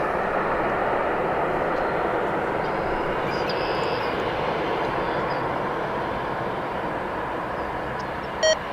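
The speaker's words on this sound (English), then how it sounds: "that aircraft looks like it's headed over to the east side" Airliner passing over DFW Airport near American's headquarters, a steady broad engine roar holding level and fairly loud throughout, with no voices.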